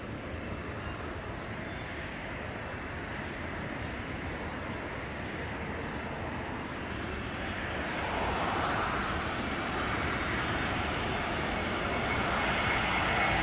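A jet airliner roars steadily at Montego Bay airport in Jamaica, a loud broadband rumble that swells and grows brighter toward the end with no voices over it.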